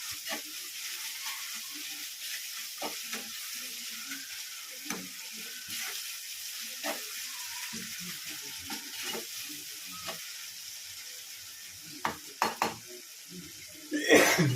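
Chicken curry masala sizzles in a frying pan while being stirred, with soft scraping strokes recurring under the steady hiss and a few louder clanks near the end; no talking.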